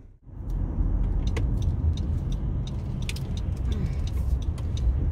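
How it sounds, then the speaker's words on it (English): A car pulling up at a car wash, a steady engine rumble and road noise heard from inside, with small clicks and rattles over it. "So I'm pulling up at the car wash"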